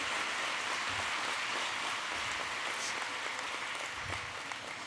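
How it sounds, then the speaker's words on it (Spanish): A church congregation applauding during a worship service, a steady, dense wash of clapping that holds without a break from start to finish. "Dele un buen aplauso a Dios, porque Él es el que llena nuestra vida."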